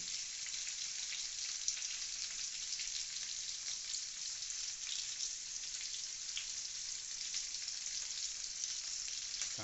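Chopped ginger and garlic frying in a pan for fried rice and chilli chicken: a dense, even, crackling sizzle that holds at a steady level throughout, heard close up with no talking.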